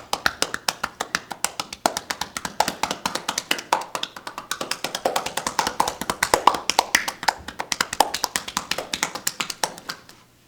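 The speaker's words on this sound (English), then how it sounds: "And one of the techniques is cupping." Rapid hollow cupped-hand strikes on a person's back during a Swedish massage, a steady run of close, crisp percussive pats with no talking.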